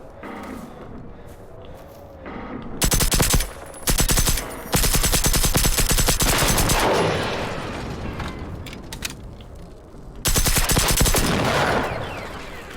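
Rapid automatic gunfire in the shooter game Generation Zero, with long sustained bursts broken by short pauses, loud and close over a steady background din, with no talking.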